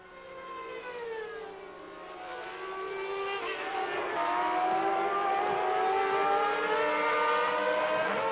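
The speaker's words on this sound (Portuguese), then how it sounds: "Aí o Schumacher, você vai curtindo o ronco bonito do motor." A Formula 1 car at the 1994 Japanese Grand Prix roars past, its high-pitched engine rising steadily in pitch and loudness with sweeping harmonic whine, heard alone with no talk.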